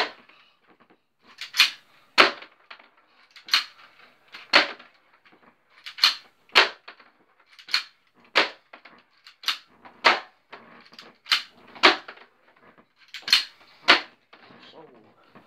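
A BB gun pistol fires pellets at a cardboard box target, a series of about a dozen sharp, close snaps at irregular intervals of one to two seconds with quiet gaps between them.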